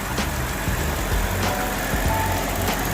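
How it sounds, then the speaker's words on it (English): A 2008 BMW 750Li engine idling steadily up close under the open hood, a low even rumble with faint periodic ticks and clicks. "Listen to that engine."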